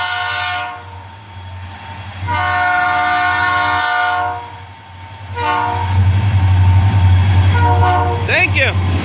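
An FEC freight train with locomotive 709 leading sounds long, loud horn blasts, then rumbles past close by with a heavy low drone and rail clatter, while people talk nearby.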